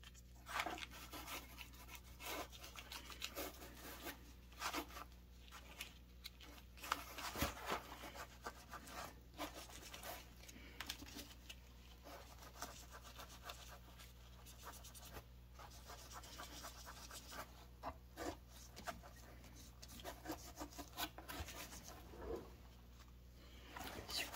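Patina is rubbed by hand into the solder seams of a stained glass cocker spaniel panel, giving a steady close scrubbing and brushing with soft scratchy strokes and occasional louder rubs. No one speaks.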